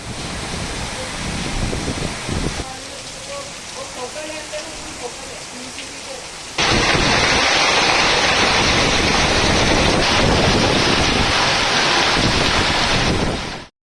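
Heavy unseasonal rain with hail pouring down in farm country, a dense roaring downpour that grows much louder halfway through and continues steadily before cutting off.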